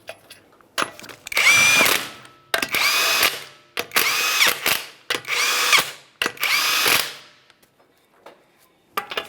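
Power impact tool spinning 21mm lug nuts onto a 2009-2014 Nissan Maxima wheel, five loud whirring bursts of about a second each separated by short pauses, close up and alone.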